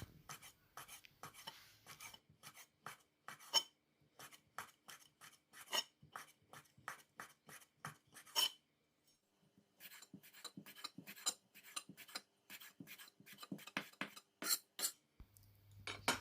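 A knife slices through pork skin on a board for Thai naem in a home kitchen in Australia, making quick, close, crisp cutting strokes in uneven runs, with a brief pause midway.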